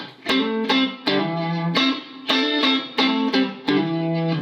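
A Blackstar Silverline guitar amp plays electric guitar chords struck in a steady repeating pattern, each ringing out with echoing delay and a washy reverb tail.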